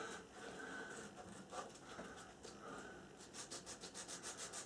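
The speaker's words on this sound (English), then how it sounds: "And just gently sand that meeting surface" A sanding block is rubbed gently across the mating surface of a plastic model aircraft part, giving steady close scratchy strokes that speed into a quicker rhythmic back-and-forth near the end.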